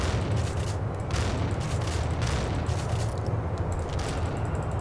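Enemy gunfire aimed at the player in Max Payne: a dense, sustained barrage of overlapping shots with heavy low rumble and crackling bursts, continuous throughout.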